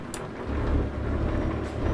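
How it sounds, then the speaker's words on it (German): Steady rain in the Euro Truck Simulator 2 driving game, a continuous broadband wash over a low engine rumble, holding at even loudness with a brief rise near the start. "Das Einzige ist, dass es jetzt regnet."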